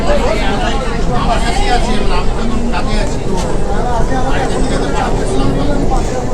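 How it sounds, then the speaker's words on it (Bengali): A metro train runs through the tunnel beneath the Ganges, a loud continuous rumble and rattle filling the carriage while passengers chatter throughout. "ডোর এখন লক হলো আর এখন চলা শুরু করলো এই মেট্রো"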